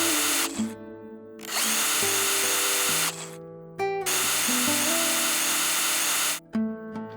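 A power drill countersinks and drives screws into the back panel of a wooden bird box, in several loud bursts of whirring that stop and restart with short pauses between them.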